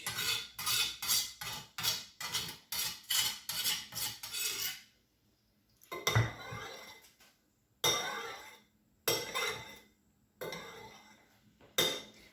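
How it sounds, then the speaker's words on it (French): Chili peppers crushed by hand for a Cameroonian grilled-fish sauce: a quick run of rhythmic, close grinding strokes, then a pause, then longer rasping scrapes in separate bursts. No one speaks. "Voilà comment ma mère écrasait souvent son piment et j'ai pris l'habitude."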